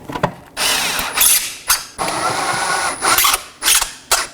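A tool works screws on the inner wheel-well fender liner of a 2018-2024 Chevrolet Equinox, giving several short, close bursts of whirring and clicking separated by brief pauses, with no talk.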